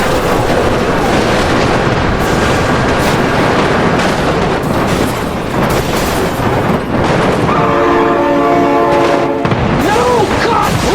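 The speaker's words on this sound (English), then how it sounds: "Oh my god, train!" A loud train in BeamNG.drive roars past with heavy rumbling and crashing, and a sustained horn blares toward the end, with a voice shouting over the din.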